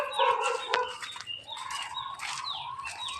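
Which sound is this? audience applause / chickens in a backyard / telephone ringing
chickens in a backyard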